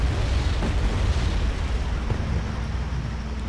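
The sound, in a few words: ATGM anti-tank missiles fired and exploding in Wargame video game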